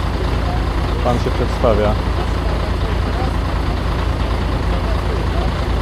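A truck sits idling at a concreting site, a constant low diesel rumble close by, with people talking over it.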